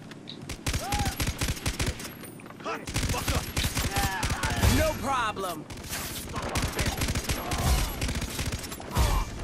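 Rapid automatic gunfire in the Far Cry 3 video game, dense bursts and single shots running nearly throughout at close range, with players talking over parts of it.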